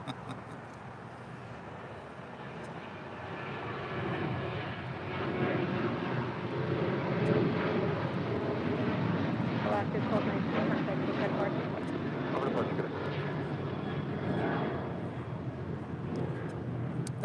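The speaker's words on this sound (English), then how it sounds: "That is Alaska 1219 departing to Seattle on a 737-900 ER" An Alaska Airlines Boeing 737-900ER departs LAX for Seattle, its jet engine roar building from a distant rumble into a sustained, moderately loud wash that tapers slightly toward the end.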